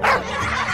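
A small cartoon dog gives a quick yappy bark and whimper, near and clear, with no talk over it.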